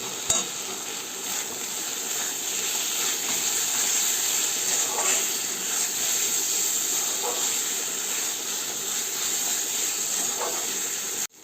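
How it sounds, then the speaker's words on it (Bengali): Fried eggs sizzle in a pan of cooked spice masala, a steady loud hiss of frying with light stirring scrapes throughout, ending in a sudden cut. "এবার এর মধ্যে আমি ভেজে রাখা ডিমগুলো দিয়ে দেব।"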